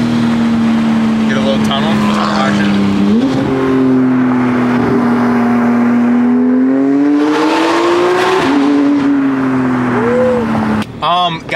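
A Porsche 991 GT3 fitted with a GMG exhaust runs at sustained high revs with a bright, steady howl that climbs in pitch in a couple of steps, loud and close, followed by a brief burst of rustling at the end.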